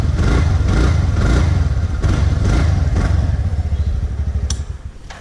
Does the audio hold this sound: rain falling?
no